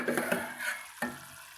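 Radish gravy boiling in a pan while being stirred, with soft bubbling and sizzling and a couple of scraping stirs of a utensil against the pan, close and fairly quiet.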